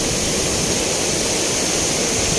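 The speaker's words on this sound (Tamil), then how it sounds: "சின்னதாக ஒரு அருவி தெரியுதுல்ல," A small waterfall at Kundah in the Nilgiris roars as a steady, dense rush of falling water, loud and close, with no voices over it.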